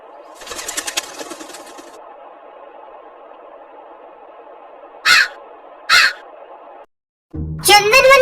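Two short, loud crow caws ring out in a cartoon story, spaced about a second apart over a steady background hum, followed by a burst of narration-like voice.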